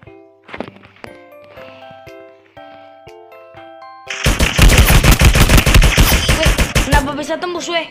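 Rapid bursts of gunfire from the mobile battle-royale game Free Fire, loud and dense through the second half after quieter game tones and chimes, ending in a few scattered shots.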